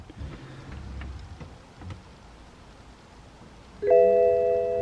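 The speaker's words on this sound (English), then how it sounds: "Put the key in, ignition on." Key turned to switch on the ignition of a BMW E90 3 Series, faint quiet handling before a sudden steady electronic tone and hum rises near the end and holds.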